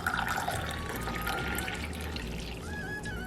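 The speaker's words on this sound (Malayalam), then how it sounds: "ആദ്യം തന്നെ പണി ചെയ്യണതിന് മുന്നേ ഒരു ഗ്ലാസ് വെള്ളം കുടിച്ചിട്ട് തുടങ്ങാമെന്ന് കരുതി" Water trickles and pours into a glass for a drink in a home kitchen, a soft, steady running stream heard close and fairly quiet, with no voices.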